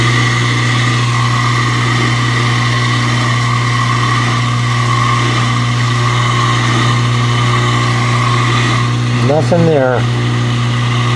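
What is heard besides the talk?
KitchenAid Superba dishwasher pump cavitating with dry sump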